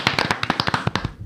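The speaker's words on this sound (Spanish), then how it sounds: "Aplauso" A short burst of hand clapping, a rapid, uneven run of sharp claps that stays fairly loud throughout, dropped in as applause during a Dominican podcast intro.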